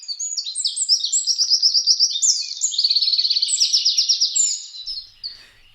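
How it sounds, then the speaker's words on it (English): Birds chatter and trill continuously just outside a window, a dense run of bright, rapid chirps and rolling twitters that carries on unbroken before thinning out at the end. "I sort of feel like I can hear the birds chattering. Maybe they're just outside my window"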